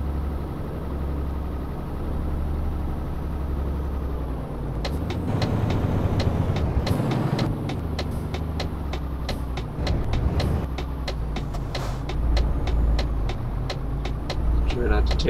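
Truck engine in Euro Truck Simulator 2, a steady low drone from a vehicle driving on the wrong side of the road, with rapid clicking bursts joining partway through and a voice talking over it.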